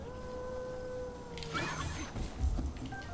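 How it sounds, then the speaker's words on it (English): Wolves in the video game Zelda Breath of the Wild let out faint, drawn-out howls, followed by a short burst of rustling, scuffling game noise, all fairly quiet. "The wolves definitely don't need to howl at me."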